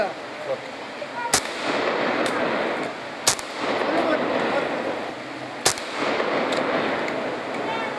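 Three sharp gunshots fired into the air at a Kalash funeral ritual in Pakistan, spaced a couple of seconds apart over a steady crowd murmur and outdoor bustle.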